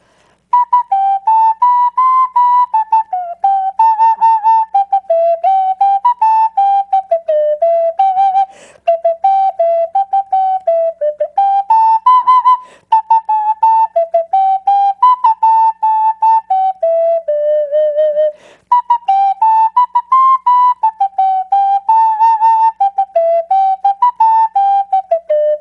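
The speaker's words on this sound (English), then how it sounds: "supposing I try to play at least part of it on this flutophone" A flutophone plays a simple melody alone, its clear, breathy, whistle-like tone moving up and down in short phrases, loud and close, with two brief pauses for breath.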